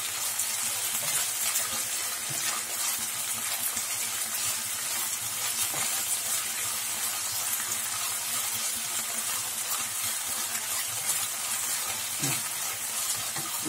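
Coriander, curry leaves and mint sautéing in a pan for mutton botti kuzhambu, a continuous close sizzle with occasional stirring taps and a small clink, no talking.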